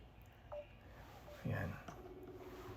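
A phone call being placed, with short dialing tones and a ringing tone sounding faintly in a quiet room, a few separate beeps spread across the moment.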